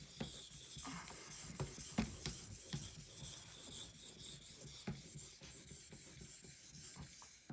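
A Cold Steel 4-Max Scout knife blade rasps over an Edge Pro Apex sharpening stone in faint, close strokes, a repeated scraping rhythm with occasional sharper clicks.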